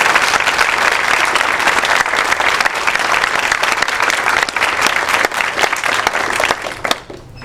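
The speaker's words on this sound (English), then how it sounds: "Can we have a round of applause for them?" An audience at a charity talk about the Japan earthquake, held at SMU, applauds the event organizers with sustained, loud clapping from a full room that holds steady and then tapers off near the end.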